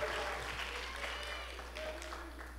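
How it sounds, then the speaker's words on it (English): A high school auditorium audience at a teen talent show applauds the booth crew, a faint, distant patter of clapping mixed with some voices over a low steady hum. "give the booth a round of applause for all the work they do"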